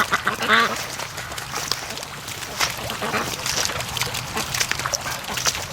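Free-range ducks quacking outdoors, a cluster of nasal quacks near the start followed by scattered quieter calls over a steady background hiss, fairly close.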